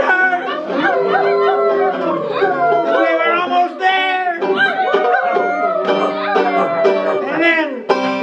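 Voices mimic a pack of dogs howling, yipping and whimpering during a live folk storytelling performance, with overlapping wavering howls sustained loudly throughout.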